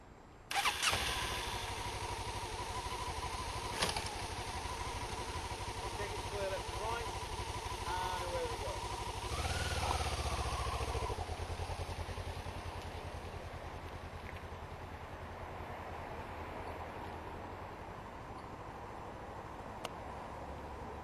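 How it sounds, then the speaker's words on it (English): A motorcycle on a Module 1 training test starts up close by and runs steadily, its engine rising briefly as it rides off, with a continuous mid-pitched drone throughout and an instructor's voice talking over it. "if you'd like to start the bike up,"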